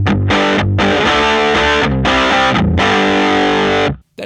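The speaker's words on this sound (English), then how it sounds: "Let's go to a distortion." Heavily distorted electric guitar through a distortion pedal into a Tonkraf Phoenix amp, played as loud sustained chords with brief gaps between strums, then cut off sharply near the end.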